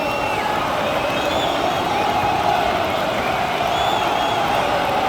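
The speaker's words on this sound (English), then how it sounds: "The crowd appreciates good football all round there" Steady crowd noise from a stadium in a Manchester United versus Manchester City football video game, a continuous broad wash of applause and murmur with faint whistles and calls, holding at an even level throughout.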